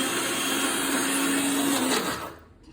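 A mixer grinder runs at a loud, steady whir while it grinds ingredients to powder, then winds down and goes quiet near the end, with no voices.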